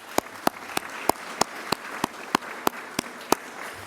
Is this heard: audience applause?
yes